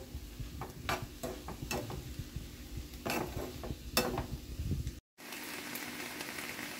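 Capsicum and beef filling fries in a pan with low sizzling under repeated scrapes and stirring clatters, close and fairly quiet, with a brief cut near the end before the sizzle resumes.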